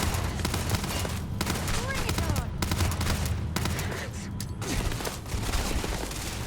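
Gun in Starfield firing in dense, continuous bursts of rapid shots amid loud game noise, with talking mixed in.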